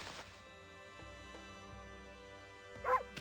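A single short dog bark in Okami HD near the end, over quiet game music.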